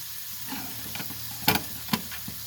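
Shrimp cooking in a pan give a soft, steady sizzle, broken by a few sharp scraping clinks from stirring, heard close with no talk.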